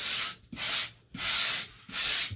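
Abrasive strokes scuff the surface of a model railway track bed, four even back-and-forth rubbing passes with short gaps between them, close and steady.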